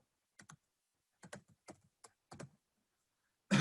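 A vehicle registration is typed on a computer keyboard: sparse, quiet key clicks arrive singly and in pairs, then a louder clack closes the sequence in an otherwise silent room.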